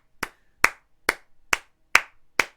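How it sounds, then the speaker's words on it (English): Applause from a scene in the film The Birds, with six sharp, evenly spaced claps that sound like isolated single slaps rather than a natural crowd, loud and clear with no talk. "My favorite part about that scene is that the clapping isn't synced."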